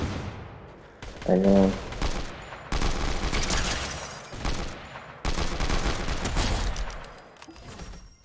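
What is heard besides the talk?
sniper gunfire in Fortnite video game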